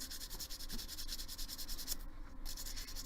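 A sheet of 320-grit sandpaper rubs steadily back and forth, producing a close, rhythmic scratchy rasp with a brief pause near the end. No one speaks.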